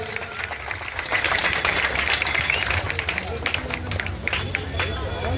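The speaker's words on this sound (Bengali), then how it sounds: "একটু জোরে হাততালি হয়ে যাক" Applause at a local football tournament prize-giving as the fair play trophy is presented, a steady broad wash of clapping from a crowd with some chatter mixed in, sustained for several seconds.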